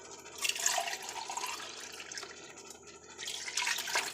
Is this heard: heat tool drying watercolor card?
no